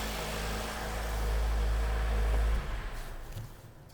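2021 Jeep Wrangler 4xe plug-in hybrid with its engine revving, a low steady drone that builds for a couple of seconds and then drops away.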